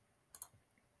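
Two quick, crisp clicks of a computer mouse close together, sharp and near in an otherwise quiet room.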